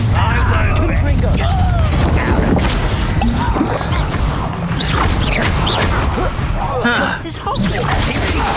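A Confringo blasting spell explodes in the video game Hogwarts Legacy, loud booming crashes and smashing debris in a dense, chaotic battle mix, with voices shouting over the clamor.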